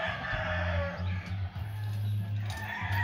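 A Lindell-line rooster, a penny-type gamecock, crows over steady low hens' clucking in a pen, the calls close and fairly loud with no talk.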